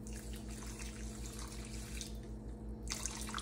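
Water is poured into jaggery in a cooking pan, a steady faint splashing and trickling over a low constant background hum.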